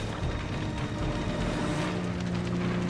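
Plane in Uncharted: Drake's Fortune, a steady loud engine drone with a tonal hum holding through the whole stretch, without talk.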